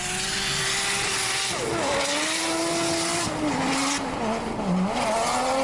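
A Toyota Chaser drifts across a frozen lake on studded tires, its engine note rising and falling with sustained tire scrabble and a hiss of ice spray, loud and close throughout with no voices.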